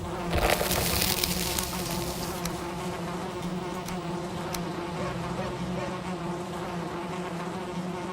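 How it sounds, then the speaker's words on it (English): Bees buzz in Valheim, a steady, close droning hum that holds throughout, joined by a few faint clicks, with no talking over it. "Bees!"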